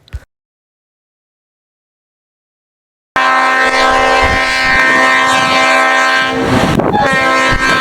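After about three seconds of silence, a train roars past loudly and close, its horn blaring in a sustained chord over rumbling wheels.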